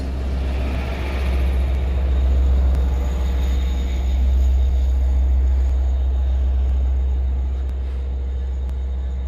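A Long Island Rail Road train led by a DE30AC locomotive arrives at Speonk station with a steady diesel rumble, rolling wheels and faint squeals, sustained and close throughout with no talking.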